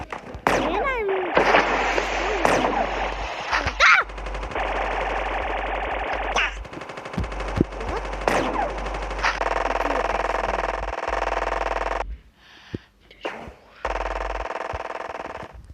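Rapid bursts of game gunfire from Chicken Gun, repeated shots with splashy, chaotic effects layered over a steady hum, loud and close, with a player talking between bursts.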